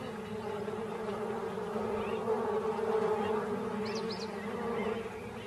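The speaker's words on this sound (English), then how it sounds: "She tries a pit, but finds it full of bees." Swarm of bees buzzing in a pit in hot wild country, a dense steady drone that stays loud and close throughout.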